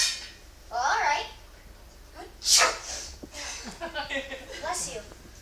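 A person sneezes close by in a sharp burst, with voiced talk before and after it.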